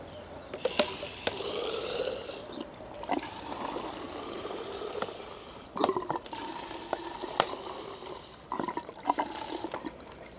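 Distilled water pours through a hose into the radiator of an MT450 motorcycle during a coolant change, a steady trickling gush with gurgling bursts as air bubbles escape.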